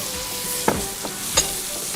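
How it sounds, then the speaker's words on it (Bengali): Fried mutton pieces hit hot oil in a pan for dal gosht, giving a strong, continuous close sizzle with a few sharp spattering clicks over two seconds. "আমাদের ভাজা মাটনগুলো দিয়ে দিচ্ছি"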